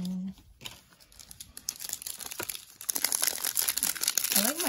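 The foil wrapper of a Japanese Strixhaven Magic: The Gathering booster pack crinkles and tears open close by, with the crackling getting busier toward the end. People talk over it.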